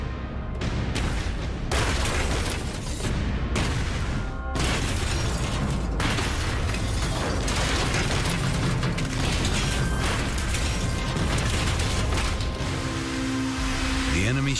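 A barrage of depth charges detonates around a WWII Pacific submarine, a dense, continuous roar of heavy booms and rumbling concussions with rattling, clanking machinery throughout, loud and sustained.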